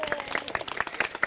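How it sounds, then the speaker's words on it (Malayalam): Studio audience applauding on a Malayalam comedy game show stage, a brief burst of clapping with crisp, irregular hand claps close by, lasting just over a second. "കയ്യടി."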